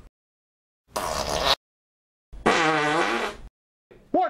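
Three separate farts break the silence: a buzzing one, a longer rippling one and a short final squeak, all loud and close.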